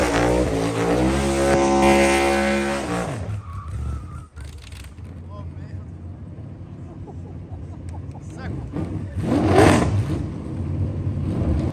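Cars drifting in the drift zone at the Goodwood Festival of Speed produce loud engine roars and tire squeals, rising and falling as they swing past, with people talking in between.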